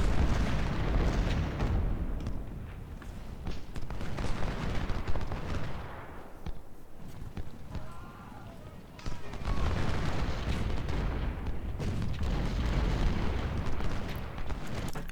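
Cannon and rifle fire in the Ultimate General Civil War game at Malvern Hill, a steady dense barrage of booms and crackling volleys that eases for a stretch midway, then swells again, with talk running over it.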